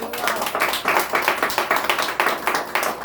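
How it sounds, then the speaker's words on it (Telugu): A congregation claps in a fast, steady rhythm during a service in a church prayer hall, many quick overlapping claps continuing throughout, fairly loud and close. "చప్పట్లు కొట్టండి"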